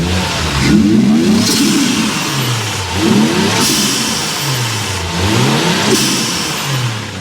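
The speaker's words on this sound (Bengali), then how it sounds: "জীবনে টার্বোর শব্দ শুনি নাই ভাই।" A turbocharged car engine revved repeatedly in a garage, loud rising and falling surges in three or four pulls close by.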